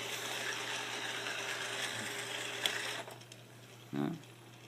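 Small motors of a Roomba-based sumo robot whirring as it drives backwards, a steady mechanical buzz that cuts off partway, then a brief louder whir.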